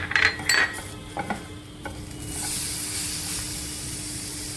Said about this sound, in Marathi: त्यात मी आता टोमॅटो पण थोडा भाजून घेते आहे.